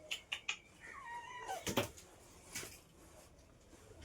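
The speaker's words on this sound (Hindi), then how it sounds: "देखिए बिल्ली परेशान कर रही है, दिखा रहा हूँ बिल्ली को।" A house cat meows a few times, with short cries that rise and fall at close range in a quiet room. Some faint thumps and rustles sit in the background.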